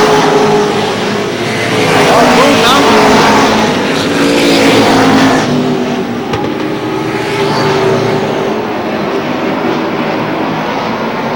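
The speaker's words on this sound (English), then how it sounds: "Tavares trying to keep that car low as Joe Mountain is able to pull in on the turns" Stock cars racing at Lee Speedway in New Hampshire, a dense, loud, continuous roar of several engines that swells and fades as the field passes through the turns, heard alone without talk.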